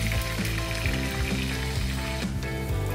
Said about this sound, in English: The kadhai is nice and hot, so I'm going to put 3 chopped onions.